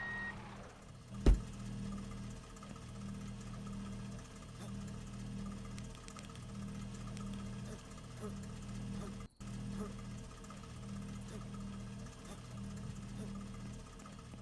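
Reversing beeps from a truck in the Contract Ville video game repeat in a steady rhythm over a low engine hum, with one sharp clunk near the start.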